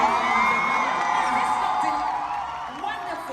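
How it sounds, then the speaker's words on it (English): A film premiere audience in Brazil cheers and whoops in a loud, sustained crowd roar with raised shouts, fading slightly toward the end. "Please, round of applause."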